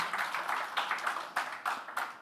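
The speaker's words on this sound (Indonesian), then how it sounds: "Tepuk tangan yang panjang dah bagi Tuhan Yesus." Faint, sustained applause from a church congregation during a worship service, with scattered claps swelling in uneven bursts and no voice over it.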